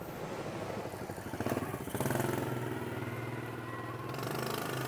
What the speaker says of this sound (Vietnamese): tiếng máy nổ cực kỳ êm nha, nổ rất là êm